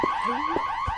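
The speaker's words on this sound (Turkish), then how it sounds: "Dayı şu alarmı kapatır mısın dayı? Bu kapanmıyor lan." Alarm in the video game Hello Neighbor, a loud, steady electronic tone with a high pitch that holds without break, alone and close.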